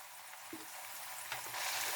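Fresh onions frying in a pan for a dhaba-style daal mash, a constant bright hiss of hot oil with a few soft stirring knocks, close and alone.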